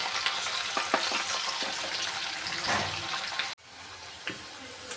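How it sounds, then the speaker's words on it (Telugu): Chicken pieces sizzle and crackle in hot oil for chicken fried rice, a dense, continuous frying hiss close up with occasional stirring, cut briefly by a sharp drop near the end. "ఇలా ఫ్రై చేసుకోవాలి."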